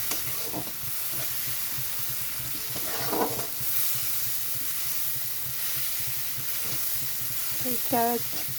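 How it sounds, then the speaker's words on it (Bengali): Spice paste with tomato fries in a pan for a fish curry, a steady close sizzle broken by a few stirring scrapes and spoon knocks, with a faint voice briefly in the background. "মশলাটা দেখুন এরকম ভালো করে কষিয়ে নিতে হবে"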